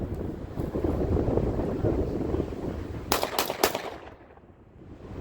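Three quick shotgun blasts from a Panzer EG200 fitted with an extended magazine, sharp broadband cracks close together under steady wind noise at an outdoor range.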